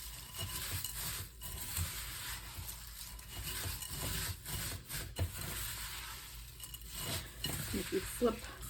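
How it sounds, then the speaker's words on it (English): A spatula stirs and folds a sticky coating mixture in a bowl for Easter dessert bird's nests, soft irregular scraping and rubbing strokes at close range, fairly quiet, with a few sharper clicks toward the end. "Flipping it from the bottom to make sure everything gets coated."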